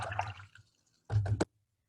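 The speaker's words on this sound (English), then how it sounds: "rinse it in water, go again." A watercolor brush rinsed in a water cup, giving two short splashy swishes separated by a brief pause, close and fairly quiet, with no talk.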